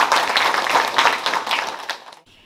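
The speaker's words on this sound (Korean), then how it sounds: "큰 박수 환영해 주시기 바랍니다." Audience applause welcoming a speaker to the 10th anniversary ceremony of the Nogeun-ri Peace Park, dense and steady for about two seconds before cutting off into quiet.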